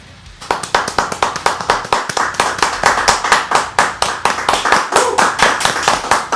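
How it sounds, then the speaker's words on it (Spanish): Audience applause for a shop owner on a Spanish-language rock TV program, rhythmic and fairly loud, with the claps falling into a steady unison beat, heard alone. "Un gran aplauso para Marisa de la tienda del Altaker"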